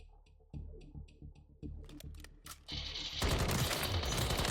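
Battle rifle fire from the video game Warzone 3, first in short rapid bursts and then in one sustained, dense automatic stream of shots. There is no talk over it.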